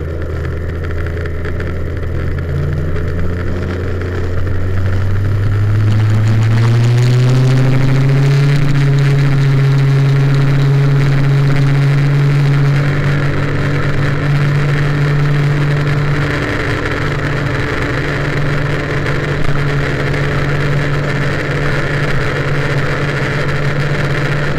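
MBK 51 moped with an Airsal T4 kit and Arrow exhaust idles, then revs up and holds a loud, buzzing high-rev drone close by for a long stretch, with slight wavers in pitch and no talk.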